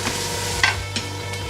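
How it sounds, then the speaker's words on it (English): A whole medium onion sizzles steadily in a hot pan, stirred with bamboo utensils that give a couple of soft wooden scrapes over the constant close frying hiss, no voices. "We're gonna let that saute for a little bit."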